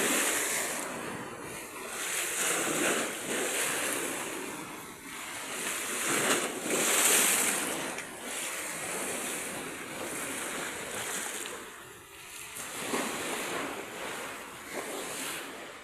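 Rough surf crashes and churns continuously, with heavy wind buffeting the microphone and loud swells rising and falling throughout.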